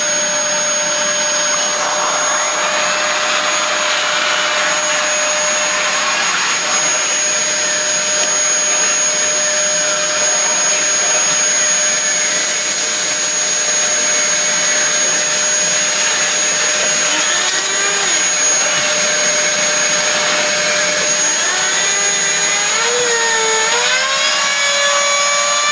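Vacuum cleaner with a clogged hose or head running close and loud with a high, overspinning whine and a steady roar, rising into a strained pitch sweep near the end, with no speech.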